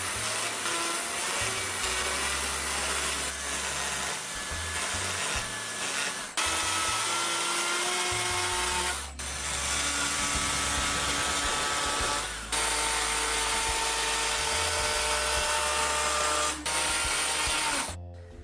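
A rotary tool fitted with a Cutsall tapered bit carves a figure, its steady high whine and grinding running loud and continuous close by with a few brief dips.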